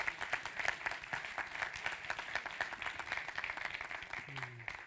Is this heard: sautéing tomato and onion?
no